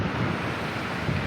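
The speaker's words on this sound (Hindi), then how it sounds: "कितनी स्पीड नाल पानी गुजर रहा है" Fast water rushes through the Head Panjnad barrage gates in a dense, steady roar with wind buffeting the microphone and no voices.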